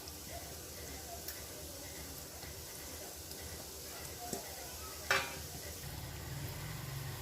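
Gulab jamun balls fry in oil over medium heat with a soft, steady sizzle, occasional utensil clinks and one louder scrape, while a quiet voice talks over the cooking.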